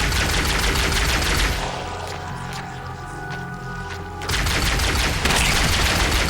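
Loud Halo combat opens the clip, with dense rapid gunfire crackling. Then the shooting drops to a lower rumbling lull, and heavy firing bursts back in. A rocket is fired somewhere in the mix.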